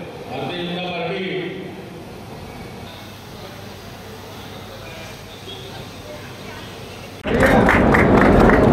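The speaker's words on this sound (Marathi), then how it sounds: "जोरदार टाळ्या वाजवून प्रवीण भाऊंचं सुद्धा स्वागत करा" A crowd bursts into loud, steady clapping near the end to welcome Praveen Tayde at a BJP event in Paratwada, following a stretch of quieter background murmur.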